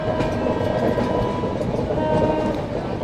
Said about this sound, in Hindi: बगल से कोई ट्रेन आ रही है क्रॉसिंग के लिए